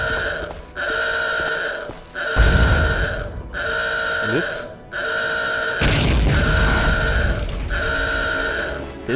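Two heavy booms burst out as explosives destroy an artillery gun in the tactical shooter Hidden and Dangerous 2, rising over a steady humming game soundscape with a brief high whistle in between.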